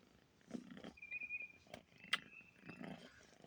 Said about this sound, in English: Y'all hear him purring?